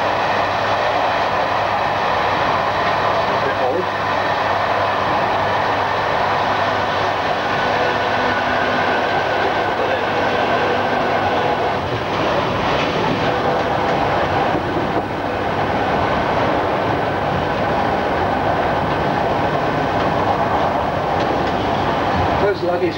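A 1980s British Rail train runs between Gatwick Airport and London Victoria via Redhill, heard from the cab as a loud steady rumble and roar with rhythmic rail clatter, and people talk over it at times.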